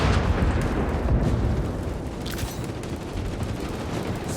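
Sustained gunfire and blasts in the Warhammer 40k: Space Marine 2 video game, a dense, loud wash of shots and booms that stays steady throughout with no clear gaps.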